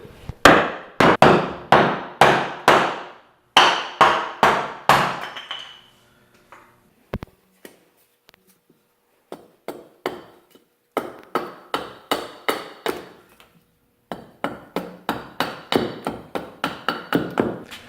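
Sharp wooden knocks from striking a block of wood to shape a mallet head, struck in rapid rhythmic bursts of several blows with short pauses between, close and loud with no talking.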